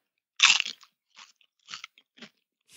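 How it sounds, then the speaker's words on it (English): Crunching food for ASMR listening, several crisp bites: one loud crunch followed by three or four softer, spaced crunches, close and isolated in otherwise quiet room. "find videos of people like crunching food, and people like to listen to it"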